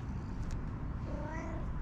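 A cat gives a soft, drawn-out meow close by, over a low rumbling background.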